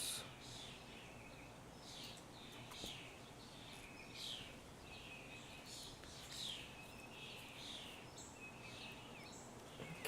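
Sparrows chirping in the distance, faint repeated short bright calls spaced every second or so over a quiet background hiss.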